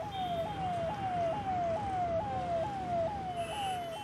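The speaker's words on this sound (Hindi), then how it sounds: "ऐसे में कभी दाएं तो कभी बाएं काट कर निकलती एम्बुलेंस" An ambulance siren wails in a repeating falling sweep, about twice a second, as it weaves through bumper-to-bumper traffic near Noida, with a dense rumble of traffic underneath.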